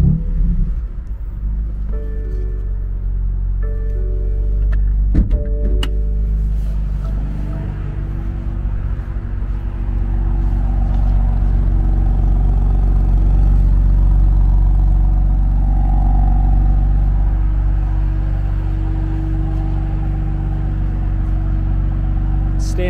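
A 2020 BMW M4 Heritage Edition rated at 444 horsepower starts up, then settles into a steady, rumbling idle that runs without a break, close and fairly loud, with brief voices early on.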